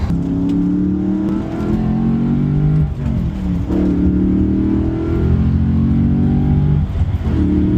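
A 4.2-litre V8 engine of an Audi B7 RS4 revs hard and loud toward 7,000–8,000 RPM, climbing and falling through several high-pitched runs with a throaty rumble underneath, close by and continuous.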